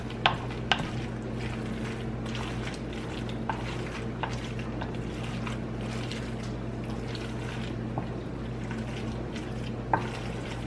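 Mac and cheese ingredients, including a bit of onion, stirred together in a pot, a continuous wet scraping and sloshing with scattered sharp clicks of the spoon against the pot, close and steady, no voices.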